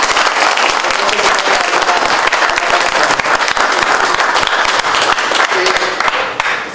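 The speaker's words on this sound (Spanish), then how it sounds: "Les pido nuevamente un aplauso para ellos." Sustained applause from an audience at a book presentation on transport phenomena and rheology of structured fluids, loud and dense throughout with no talking over it, tapering slightly at the end.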